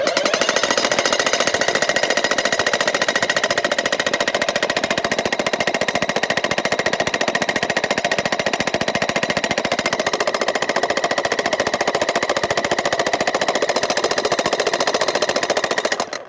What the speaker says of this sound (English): I'm going to try to drill through a hole.